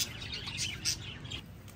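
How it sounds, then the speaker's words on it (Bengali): Many kinds of colourful birds chirp at a resort, a dense layer of bright tweets over a low background hum, fairly close and continuous with no voices. "অনেক ধরনের পাখি আছে, মানে এক ধরনেরই পাখি"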